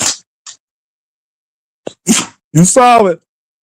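A single sharp sneeze bursts out up close in a quiet room, followed by someone speaking a few words.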